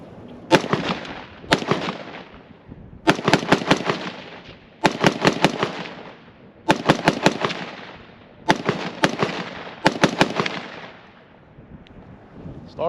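Bursts of rapid gunfire from an FN rifle chambered in 5.56, several short strings of sharp, loud shots separated by brief pauses, close by and with no talking.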